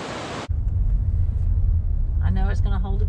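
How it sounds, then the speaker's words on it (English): Water rushing over rocks at Watson Mill Bridge State Park in Comer, Georgia, a steady low roar heard close, with a person speaking briefly over it near the end. "There's so much water coming over all this rock,"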